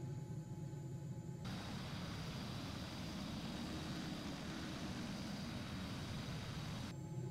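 A Tornado jet flies in a flight simulator game, a steady broadband engine roar and rushing air holding constant throughout, with a brighter hiss at the start and end.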